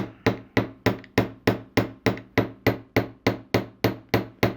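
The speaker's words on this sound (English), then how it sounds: "I'm going to turn this around and I'm going to hammer this tail a little bit" A hammer strikes the wire tail of a wire-wrapped heart earring, about fourteen sharp, evenly spaced metallic taps, each with a short ring, close and alone.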